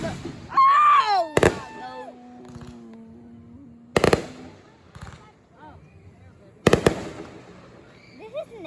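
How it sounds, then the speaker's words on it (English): Fireworks burst in several sharp, loud bangs spaced a few seconds apart, with a rising whistle early on and people talking and exclaiming between the explosions. "Wanna know why it's been so long with the fireworks?"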